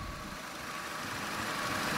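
A 2003 Ford Fiesta 1.3 Finesse with a 1.3 litre four-cylinder engine idling, a steady low hum and rumble that stays even and continuous throughout.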